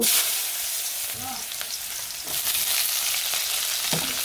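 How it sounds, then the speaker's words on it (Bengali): Potatoes and bitter gourd fry in hot oil in a village kitchen with a bright, steady sizzle and a few soft stirring knocks. "এখানে আলু আর করলা ভাজি করবো, এখন দিয়ে নিই।"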